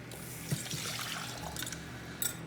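Gravy poured into a pan while Swedish meatballs cook, a steady wet trickle running for a couple of seconds with a few soft splashes, close and moderately loud.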